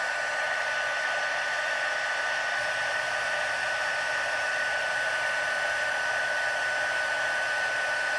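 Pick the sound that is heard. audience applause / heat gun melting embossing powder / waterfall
heat gun melting embossing powder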